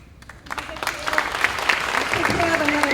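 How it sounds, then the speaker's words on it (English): An audience at a fifth-grade school chorus spring concert breaks into applause, the clapping swelling from scattered claps into a sustained, fairly loud round, with a voice speaking over it at the start. "give Caleb another huge round of applause"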